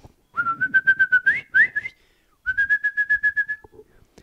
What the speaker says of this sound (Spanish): emitir el mismo silbido que había hecho Terry